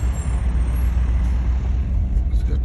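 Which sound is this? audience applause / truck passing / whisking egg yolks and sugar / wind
truck passing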